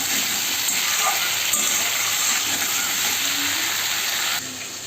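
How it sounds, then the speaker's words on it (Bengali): Raw green bananas and potatoes fry in hot oil for a Bengali singi fish curry, giving a steady, close sizzling hiss that holds even throughout and drops slightly near the end, with no talk. "কলাগুলোকে সুন্দর করে ভেজে নেব।"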